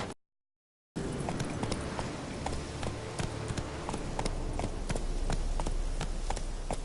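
Horse hooves trotting in The Witcher 3 on PS4, a steady clip-clop of repeated sharp hoof strikes over continuous game ambience, close and fairly loud after a brief silent gap.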